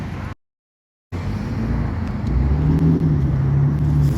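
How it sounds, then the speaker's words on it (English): A loud truck on a city street gives a steady low road rumble that cuts out briefly, then returns and grows slightly heavier toward the end. "I'm hearing the loud truck again."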